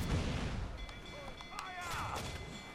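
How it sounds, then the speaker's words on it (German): Ship cannons firing in the pirate video game Assassin's Creed Black Flag, booming blasts and rumble mixed with game sounds and voices. "Bemannt die Kanonen!"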